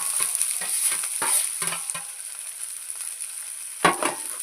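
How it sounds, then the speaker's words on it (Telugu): Sprouted moong beans are stirred in a pan of hot tempering, a steady sizzle broken by several rhythmic scraping strokes of the spoon, then a quieter stretch and one more scrape near the end, all close and without talk. "ఇలా పోపు వేగాక ఈ మొక్క పెసలను ఇందులో వేసుకోవాలి"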